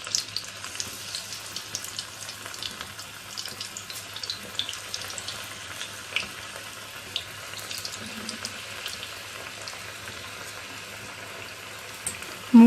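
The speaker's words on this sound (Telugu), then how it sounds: "నూనె బాగా వేడైన తర్వాత కలిపి పెట్టుకున్నటువంటి కాకరకాయ ముక్కలను వేసుకుందాం" Slices of bitter gourd deep frying in hot oil in a pan, a steady, faint bubbling sizzle with scattered crackles running throughout, no voices.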